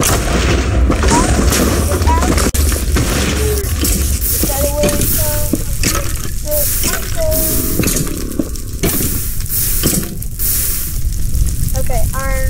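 Fireball explosions in the Minecraft video game hiss and burst repeatedly, crackling sizzle-like blasts mixed with bright game chimes and effects, while a player talks.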